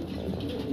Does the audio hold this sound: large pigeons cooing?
yes